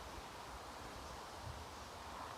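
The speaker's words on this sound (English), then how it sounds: "now the wind's got up, I can't take the next two. The wind's got up a lot" Strong wind gusting through a Swedish arctic forest beside railroad tracks during tree felling, a steady broad rushing roar with rustling that fills the whole stretch, close and fairly loud, with no talk.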